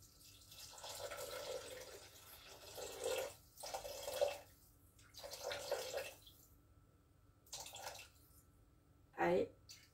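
Water poured in bursts into a pot for a coral lentil and quinoa curry, several splashing gushes separated by pauses, close and moderately loud, with a final short clear pour.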